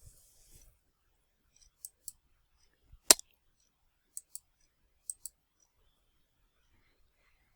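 Sharp, isolated mouse clicks sound in quiet surroundings, mostly in quick pairs spaced a second or so apart, with one louder single click in the middle.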